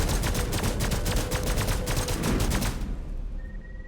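Rapid gunfire rattles nonstop at a ship in the video game Lost Skies, a dense, loud burst of shots lasting nearly three seconds before cutting off, leaving a quiet hum.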